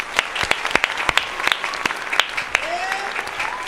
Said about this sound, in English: we got a hand clap for him.